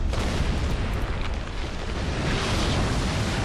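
Gunfire in the video game Max Payne 3 comes as a dense, loud wash of booming, rumbling blasts and bursts with no clear gaps.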